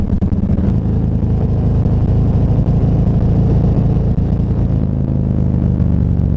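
A Harley-Davidson Road Glide motorcycle rumbles steadily under load, its deep engine drone holding at full throttle and low revs, shifting slightly as it moves up through the gears amid constant road and wind noise.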